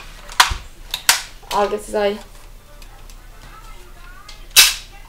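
A toy Nerf blaster fires a few sharp, close pops, about three separate shots spread over several seconds, with someone talking in between.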